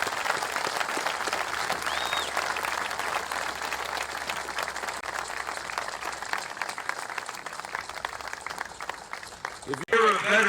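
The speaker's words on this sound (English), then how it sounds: "how about a big round of applause to those Gold Star families" Audience applause for Gold Star families at a military camp graduation ceremony, a long, steady roar of many hands clapping that tapers near the end as a voice returns.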